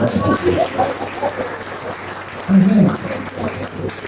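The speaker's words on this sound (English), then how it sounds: "It's like the clapping is reducing." A church congregation claps during a service as guests are introduced, scattered and thinning clapping at moderate distance, mixed with crowd murmur and a voice speaking over it.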